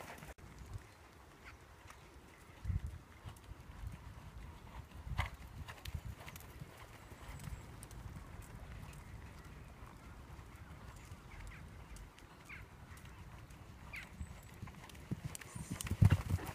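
A horse canters during a jumping lesson, its hooves thudding in a steady rhythm at a moderate distance, faint against outdoor background noise with no talk.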